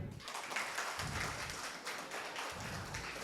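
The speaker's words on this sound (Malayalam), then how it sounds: "മെസ്സിനെ ഇഷ്ടപ്പെടുന്നവരൊന്ന് കൈയടിച്ചേ." An audience claps hands together in a steady dense patter that runs through the short stretch, fairly near and continuous, with no talk over it.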